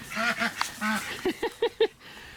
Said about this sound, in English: There's the ducks behind my raccoon trap.